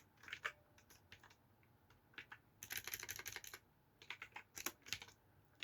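Clicky keystrokes on a computer keyboard while coding in Roblox Studio, coming in quick bursts and short runs with brief pauses, close and fairly quiet, with no talking.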